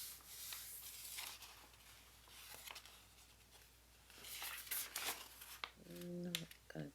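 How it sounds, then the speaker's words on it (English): Paper is rubbed down by hand onto a Gelli printing plate, giving a steady close dry rubbing and sanding hiss in uneven strokes, with a brief voice sound near the end. "This little rub down."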